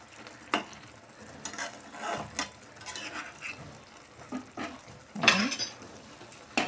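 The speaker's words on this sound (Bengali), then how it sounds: "এখন দিয়ে দিচ্ছি মাছগুলো দিয়ে ভালো করে আবার মিশিয়ে নেব।" Chapila fish being mixed into spiced oil in a pan, with intermittent scraping and clinking of a spatula against metal over a soft background sizzle, close up with no talking.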